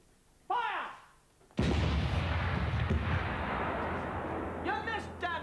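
A cannon fires in a comedy sketch, one sudden loud boom followed by a long rumbling roar that fades slowly, with voices heard before and just after the blast.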